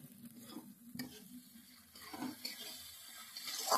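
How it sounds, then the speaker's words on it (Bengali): Spiced masala paste for a rui fish curry is sautéed and stirred in a pan, with soft scraping strokes and a faint sizzle rising and falling at close range and no talk. "সমস্ত মশলাটা দেওয়ার পরেও আবার ভালো করে 2 থেকে 3 মিনিট কষিয়ে নেব।"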